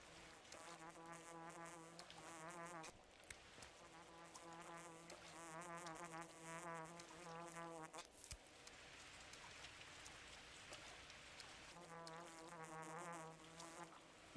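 Twire herbs in Pathologic 2 give off an insect-like droning buzz in several sustained stretches with short breaks, quiet and near, over soft ambient rain-like noise.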